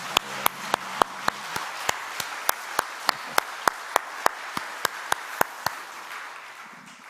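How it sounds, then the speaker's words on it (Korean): A church service congregation claps in steady unison, sharp evenly spaced claps about three per second, loud and close, which stop near the end and leave a quiet room. "이분들 위해서 우리 박수 할까요?"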